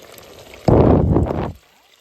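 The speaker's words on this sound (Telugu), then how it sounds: "ఇంకా ఇప్పుడు దీంట్లో బియ్యం యాడ్ చేసి వాటర్ కూడా పోసేస్తా." Water is poured from close by into a pot of rice for boti biryani, cooked outdoors on farmland. It makes a loud, rushing splash that lasts just under a second and then stops.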